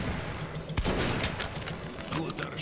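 Gunfire at a shooting range: one sharp, loud shot cracks out amid a steady hum of background noise, with faint voices around.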